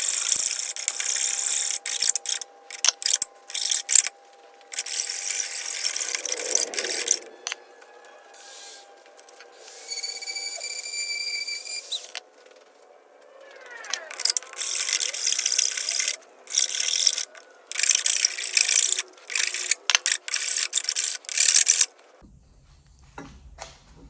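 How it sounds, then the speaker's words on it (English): A Dremel rotary tool shaping an ambrosia maple yarn bowl, giving repeated bursts of high-pitched whirring and grinding, close and moderately loud, stopping and starting with short pauses between passes. "On the Dremel, and I'm having the best success getting that shape the way I want it."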